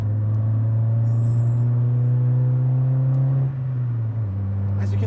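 A 1990s Honda Civic EG Coupe drives on the road with a steady engine drone heard from inside, holding a constant pitch before easing off near the end, loud and close.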